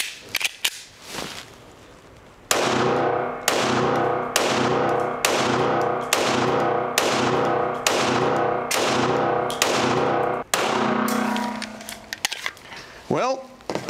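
Ruger 57 pistol firing 5.7 cartridges from a ten-round magazine outdoors: about ten sharp, loud cracks at an even, quick rhythm, each with a short ringing decay, following a brief voice at the start.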